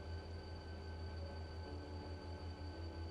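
A train car in the Run8 train simulator rolls along with a steady low rumble and faint tonal hum, continuous and even, with no talking.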